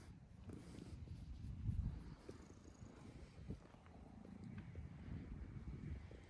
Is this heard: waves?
no